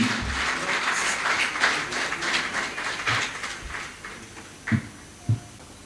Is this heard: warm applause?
yes